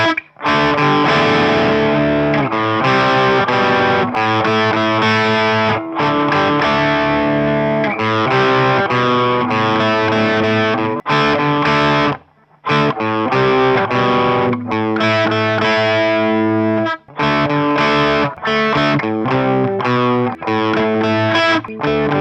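Heavily distorted electric guitar plays the second verse of a song, loud and close, chunky riffed chords in a steady rhythm with brief gaps and sustained ringing notes, no voices.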